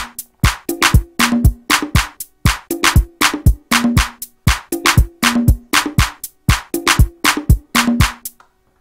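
Programmed FL Studio beat with hi-hats filling every two steps alongside percussive hits, a loud, steady looping pattern of sharp transients and tonal thumps, without speech.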